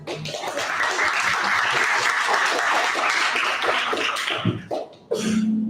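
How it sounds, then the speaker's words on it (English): A crowd at a storytelling competition claps warmly for the judges, a full steady burst of applause that thins briefly near the end before a final surge, with a voice starting to speak as it fades. "Let us give a warm round of applause to our distinguished judges."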